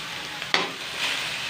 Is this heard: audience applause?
no